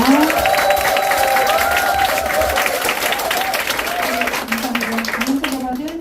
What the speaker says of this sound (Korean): VP 건숙희 사장님 모실 때 뜨거운 박수와 환영 부탁드리겠습니다.